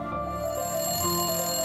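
A telephone rings with a bright, sustained electronic tone, close and clear, lasting a couple of seconds with nothing else around it.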